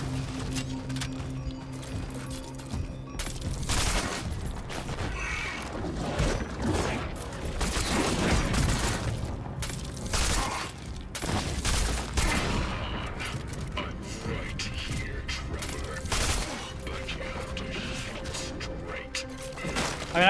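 Gunfire in the video game Cronos: The New Dawn, with repeated loud bursts of shots and clattering impacts over a low rumbling game backdrop, and a voice talking intermittently over them.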